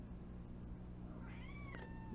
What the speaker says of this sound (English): You hear Needy Cat? Be quiet, Needy Cat.